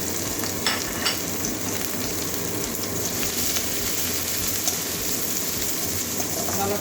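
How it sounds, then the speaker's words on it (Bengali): Chopped onions fry in hot oil with a constant close crackling sizzle, with occasional stirring scrapes in the pan, steady in level and without speech. "ভালো করে ভেজে নেব পেঁয়াজটা"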